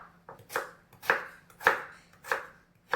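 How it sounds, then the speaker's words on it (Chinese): A kitchen knife dices potato into small cubes on a cutting board, giving about six crisp, evenly spaced chops close up with quiet gaps between strokes. "最后切成粒"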